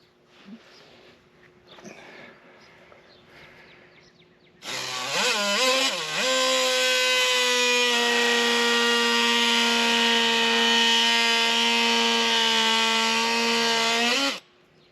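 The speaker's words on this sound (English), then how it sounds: "this one should be trimmed off, but with the oscillating tool right at the collar there" An oscillating multi-tool cuts through a branch at the collar on a second-year Macintosh apple tree pruned to a flat-top form, a loud steady buzzing whine lasting about ten seconds after faint rustling.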